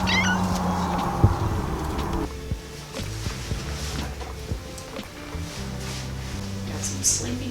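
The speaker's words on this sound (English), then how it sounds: "Got some sleepy kittens." Sleepy farm kittens meow in a high, repeated plaintive voice near the start, then softer mews and rustling follow, with people talking nearby throughout.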